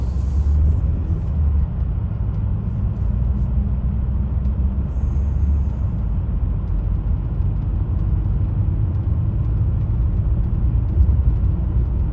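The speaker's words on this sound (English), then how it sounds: "Let this car pass." A car passes on a rural road in Vermont, a steady low rumble of engine and tyre noise that holds at an even level throughout, with no talking.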